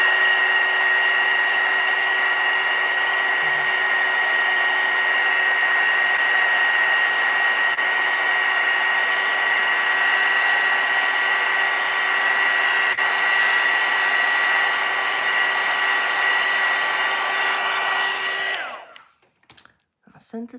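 A hair dryer blows steadily and loudly on a freshly painted artwork of flowers in a teacup, an even whirring drone with a faint tonal whine that cuts off abruptly near the end, leaving brief rustling.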